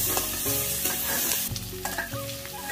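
Chopped tomatoes and onions frying in a pan over a wood-fired stove while being stirred, giving a steady loud sizzle broken by scraping stirs, with no talk.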